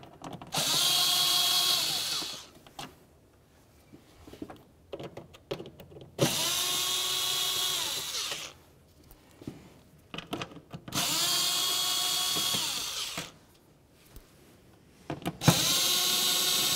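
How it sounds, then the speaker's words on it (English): A power drill backs Phillips head screws out of the cowl area of a 2010–2013 Ford Transit Connect, with four sustained whirring bursts of a few seconds each separated by quieter gaps with small clicks and handling noise. "We're going to remove six more Phillips head screws."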